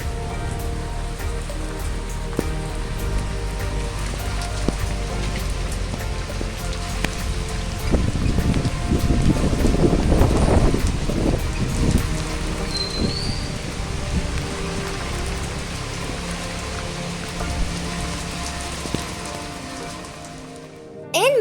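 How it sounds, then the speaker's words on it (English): Monsoon rain pouring steadily close by, with a low rumble of thunder swelling in the middle and fading again, continuous hiss throughout. "the black cloud comes and it just starts raining"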